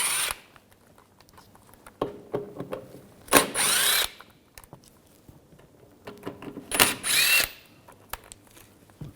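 Screws come out of a panel on a Volkswagen Jetta TDI wagon with a power tool and T30 socket, heard as two loud, close whirring bursts about three seconds apart, with softer handling clicks around them.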